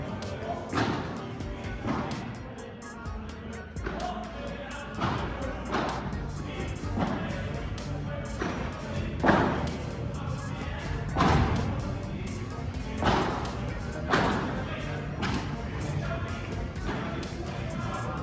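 Padel rackets strike the ball during a senior match on an enclosed court, a string of dull thuds and sharper pops repeating every second or so, with echoing impacts and faint background noise between shots.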